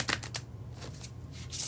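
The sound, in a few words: bridge shuffle of a tarot card deck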